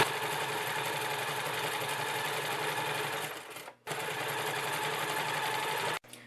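A sewing machine runs steadily as it zigzag stitches recycled T-shirt fabric, a loud continuous mechanical whir that stops briefly twice, with no talking.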